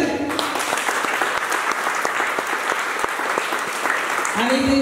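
Audience clapping at an Abirami Amman temple festival in Denmark during the Sangabhishekam day, a dense sustained round of applause with individual claps audible, a voice briefly heard at the end.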